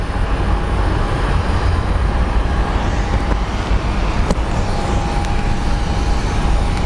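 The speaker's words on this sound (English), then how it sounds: "767 that's going to LAX that is starting to move." A Boeing 767 bound for LAX begins taxiing at Phoenix Sky Harbor International Airport, a loud, steady jet engine roar with deep rumble filling the whole stretch, unbroken and without speech.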